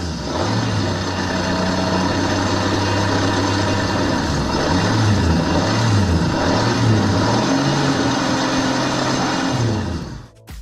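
A compact axial swashplate internal combustion engine, its pistons set parallel around the swashplate, runs in a steady close drone whose pitch wavers and dips in rhythmic swells before cutting off abruptly.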